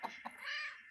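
A couple of short, soft clucks from chickens pecking at a plastic bowl, followed by a brief higher-pitched squawk, faint and close.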